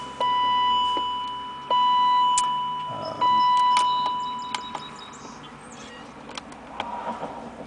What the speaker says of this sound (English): Sorry for all the beeping.